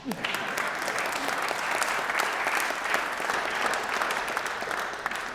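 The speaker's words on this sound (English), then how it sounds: "you can applaud for that" Audience applause at the Baltimore State of the City address fills the hall, a sustained, even burst of clapping lasting several seconds with no talking over it.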